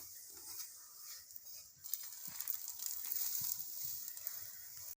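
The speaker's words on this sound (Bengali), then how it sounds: "সাদা তেলে ভেজে নেব পরোটাগুলো।" Parathas frying in white oil, a soft continuous sizzle with crackling bubbles that grows a little busier and louder after the first couple of seconds, close and steady.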